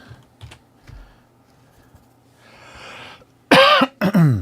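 Faint clicks and rustles, then two loud, harsh coughs in quick succession near the end, close and abrupt.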